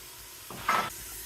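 Tomatoes go into a hot pan with ghee and spices while preparing Moroccan couscous, giving one short burst of sizzling and scraping that swells and fades within half a second over quiet room tone.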